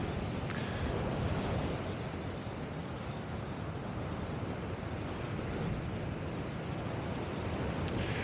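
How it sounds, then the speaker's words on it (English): Surf washing steadily onto a small beach at Eden on the south coast of New South Wales, a constant broad roar of breaking waves with some wind across the microphone and no voices. "What a pretty little beach too."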